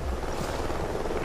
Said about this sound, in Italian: Elicotteri, stiamo coperti.